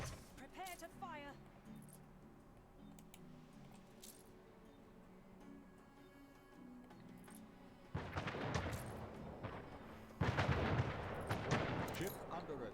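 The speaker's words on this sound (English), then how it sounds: "Fleet, prepare to fire." Fleet guns firing in a strategy video game, starting quiet and then erupting into loud, dense volleys for the last few seconds, with a voice speaking over the early part.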